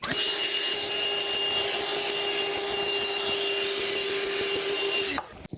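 A vacuum cleaner drones steadily and loudly at close range while cleaning an old HO scale model railway diorama with scenery, holding a constant whine until it cuts off abruptly near the end.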